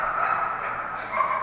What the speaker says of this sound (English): Dog's a little noisy, so it's hard to hear the handler.